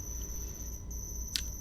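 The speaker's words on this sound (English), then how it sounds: "All we got was the sound of crickets, very loud crickets" Crickets chirping loudly as a steady high-pitched trill that runs through the whole stretch, with one brief louder burst near the end and no talking.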